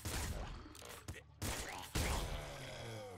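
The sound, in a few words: explosion in video game Nuclear Throne Ultra Mod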